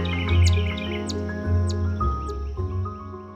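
Chipmunks chirp among the foliage of a cottage garden, a series of short, high, sharp chirps repeating every second or so over a steady low background hum.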